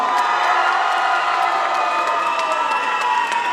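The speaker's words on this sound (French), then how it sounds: "On peut les applaudir très très fort" A crowd at a cosplay contest in Lorient applauds and cheers participants, with a steady, loud wash of clapping and whoops that carries through the whole moment.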